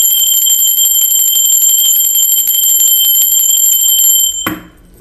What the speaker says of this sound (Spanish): así que va campana